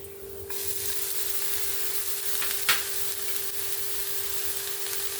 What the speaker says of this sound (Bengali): পেঁয়াজটা হালকা ভাজা হয়ে গেছে এবার আমি সমস্ত সবজিগুলো এখানে দিয়ে দেব